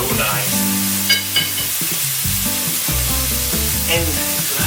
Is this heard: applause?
no